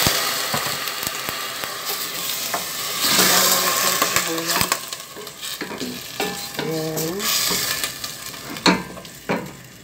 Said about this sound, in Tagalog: So guys, nasolob na ang ating bawang.